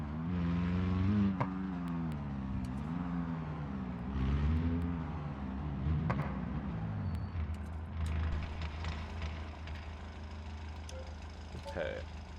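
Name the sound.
turbocharged truck engine revving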